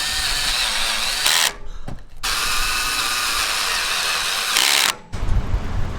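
A power drill drives the last screw into a van roof rack, two long steady whirring runs, each ending with a short stop and a brief ratcheting clutch burst, loud and close.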